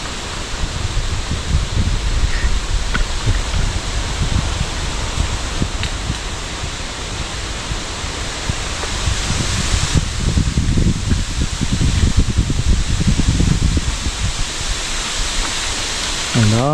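Strong wind blows through leaves outdoors in the countryside while bird traps are checked, a loud, continuous rushing rustle that swells and eases in gusts, with people talking over it at times.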